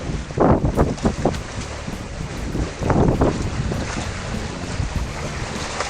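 A catamaran sailing close hauled offshore gives a steady rush of wind and water, with a few louder gusts or wave slaps near the start and middle.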